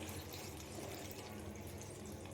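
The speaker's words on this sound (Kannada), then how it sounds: "ನೋಡಿ ನೀರು ಹಾಕ್ತಾ ಇದ್ದೀನಿ" A steady, even rush of cold water poured over cooked noodles pours continuously at low volume, with no talking.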